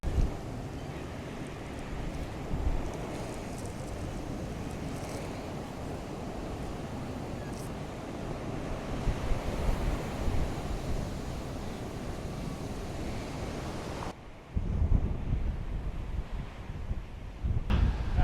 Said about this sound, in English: That wind is unrelenting.